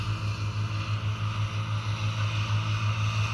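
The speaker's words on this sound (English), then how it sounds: "As you can see, the tractor is driving." A tractor drives in a hay field during second cutting, its diesel engine a steady low, pulsing drone heard from close by with wind noise and no talk.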